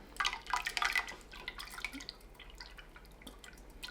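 Soap-making solution drips and trickles through a strainer, a close, quiet patter of irregular drops that is busiest at first and then thins to scattered drips.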